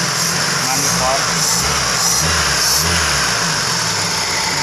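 A warm Honda Grand Civic carbureted engine, after its cracked carburetor manifold clamp was fixed, idles steadily with a low, even, rhythmic thrum while someone talks over it.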